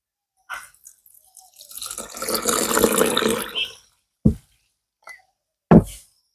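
Soaked flattened rice (aval) is rinsed in water, a long wet swish and slosh lasting a couple of seconds, followed by a few short splashes and drips close by.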